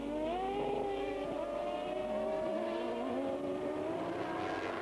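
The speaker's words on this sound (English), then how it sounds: "Hard on the brakes for Goddard, second gear, flick, flick, flick, and the computer takes care of the gear changing for him" Formula 1 race car in 1993 European Grand Prix qualifying braking hard and changing down through the gears, its high engine whine sweeping downward in several quick steps, steady and moderately distant.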